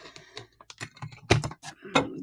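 Keys clatter on a computer keyboard plugged into a device, a quick irregular run of close, crisp taps with a few louder presses near the end and no talking.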